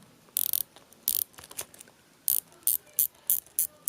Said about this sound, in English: Here's the sound of the bezel.